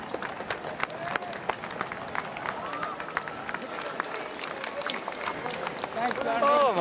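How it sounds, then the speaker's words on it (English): A racecourse crowd cheers and applauds a racehorse, with dense clapping and scattered shouts at moderate volume under someone talking. "you're going to get a well-deserved cheer"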